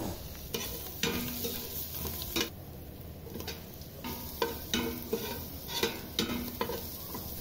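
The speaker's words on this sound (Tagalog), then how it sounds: "Mag-iisa naman tayo ng luya, bawang, at sibuyas." Ginger, garlic and onion sauté in hot oil in a pan, a steady sizzle broken by repeated scraping stirs of a spatula at a fairly regular pace, close by with no talking.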